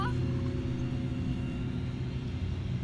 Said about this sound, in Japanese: ちょっとね、重機の音でね、 少し雑音が入ってますけど